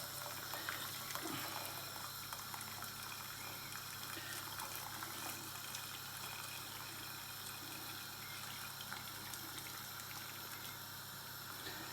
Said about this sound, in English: I'm going to take the onion skins and everything and pour it through a sieve